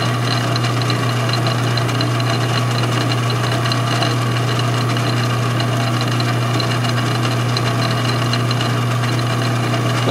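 A hobby milling machine drilling into metal gives a steady, loud motor hum with a low droning tone that holds evenly throughout, with no speech.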